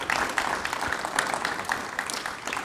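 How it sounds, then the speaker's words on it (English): An audience at an Austin District 10 candidate forum breaks into steady applause, a dense wash of clapping sustained at moderate loudness throughout. "Can we get a round of applause for lovely Chica for the Q&A?"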